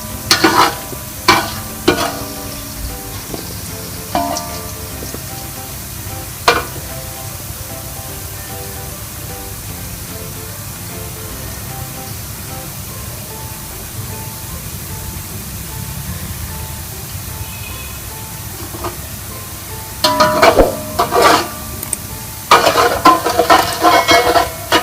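Onion paste frying in hot oil in a pan for buffalo paya, with a steady low sizzle throughout and sharp spoon scrapes and clatters against the pan at intervals, busier near the end.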